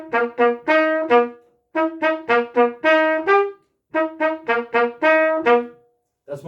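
A solo trumpet plays a conga-rhythm technical exercise: short, clearly separated tongued notes in grouped bursts with brief rests between phrases, close and loud with no accompaniment.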